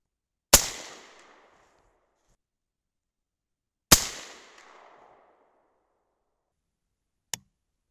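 Delayed gunshots from a 6.5 Creedmoor rifle with hang fire problems from small primers: two loud sharp reports with decaying echo a few seconds apart, then a short faint click, otherwise quiet.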